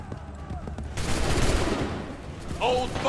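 A volley of musket gunfire on command in Assassin's Creed 3 bursts out as a dense, loud crackle of overlapping shots lasting about a second and a half, with shouted voices before and after.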